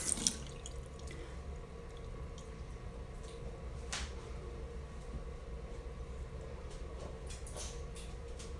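A tap runs water into a sink, a steady faint hiss that continues throughout, with a light clatter at the start and a brief louder splash partway through.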